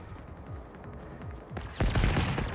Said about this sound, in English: we have someone shooting me in the back